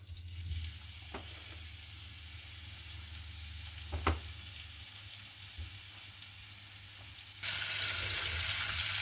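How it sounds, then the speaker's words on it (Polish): Chicken breast and sausage skewers with onion sizzle quietly in a frying pan, with a few soft clicks and taps, then the sizzling hiss suddenly grows louder near the end. "na patelni, ładnie nam się tu smażą"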